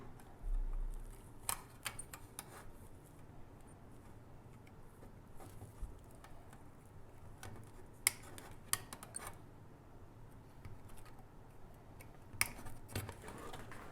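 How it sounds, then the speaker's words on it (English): Cutters snipping capacitor legs on an internet router's circuit board, heard as sparse sharp clicks and snaps scattered over a low, steady background hum, close and quiet with no talking. "Now we need to cut the legs that are standing on our way"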